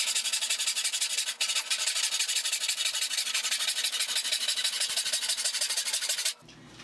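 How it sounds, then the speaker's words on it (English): A handsaw cuts across a wooden board in fast, even back-and-forth rasping strokes, close and steady, stopping abruptly at the end. "once I start a handsaw cutting in a straight line"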